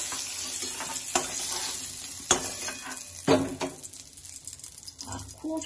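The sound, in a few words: chicken pieces frying lightly in oil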